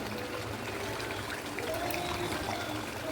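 Kewra water trickles in a thin, steady stream onto cooked chicken for biryani, a soft continuous pour heard close under a faint background hum.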